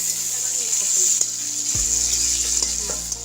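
Potato and pointed gourd frying in a pan, a loud close sizzle with occasional scrapes and a sudden low thump partway through, no voices.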